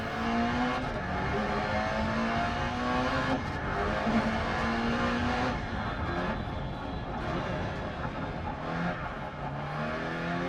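A Peugeot rally car in the DiRT Rally video game drives at speed, its engine revving and shifting through rising and falling gear notes, with tyre noise on loose ground, loud and continuous throughout.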